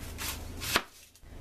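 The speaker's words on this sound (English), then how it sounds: "Cut up our onion to go in" An onion is chopped on a cutting board, with two or three close knife strokes in quick succession. The sharp final chop is followed by a brief near-silence.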